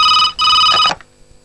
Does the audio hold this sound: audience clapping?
no